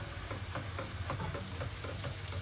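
Zucchini and hilsa fish sauté in a pan under a dense sizzle, with quick rhythmic stirring strokes scraping through it from close by.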